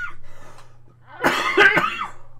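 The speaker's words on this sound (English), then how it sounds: "sorry, I have to cough." A person coughs a few times in quick succession, close and fairly loud, after a quiet stretch with faint background hum.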